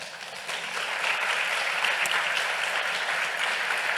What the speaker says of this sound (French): dans un tonnerre d'applaudissements,